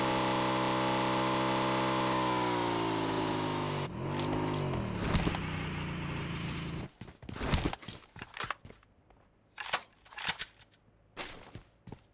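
A car approaching in the mobile battle game PUBG Mobile: a loud, droning engine with shifting pitch, followed by sharp bursts of gunfire and short impacts.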